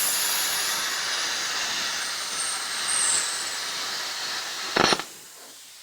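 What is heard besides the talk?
plasma cutter cutting metal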